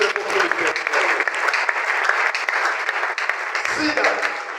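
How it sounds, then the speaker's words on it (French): An audience at a religious conference in Abuja, Nigeria claps loudly and continuously as a dense wash of applause, with a voice briefly rising near the end. "Clap for Jesus."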